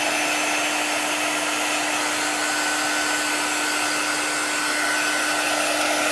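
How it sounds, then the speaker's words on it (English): Heat tool running steadily for about six seconds while drying a chalk transfer craft project, a loud, continuous hair-dryer-like blowing hum with a constant whine and no talking. "This is our quick dry tool. This is what helps us dry our products or our projects."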